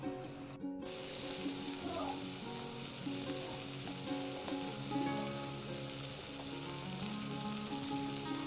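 Vegetables for a Bengali chorchori fry in a pan, giving a faint, continuous crackling sizzle, with a low background hum and tonal sounds underneath.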